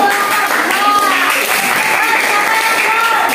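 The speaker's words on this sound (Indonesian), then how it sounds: "tepuk tangan untuk" Students in a classroom clap for the first group during a lesson, giving a sustained, fairly loud round of applause with voices faintly audible underneath throughout.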